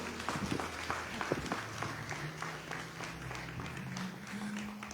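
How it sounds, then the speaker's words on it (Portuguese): A church congregation claps together at a Sunday evening service, a soft, continuous patter of many hands heard from a distance, with a faint voice beneath it. "E as palmas louvam o Senhor,"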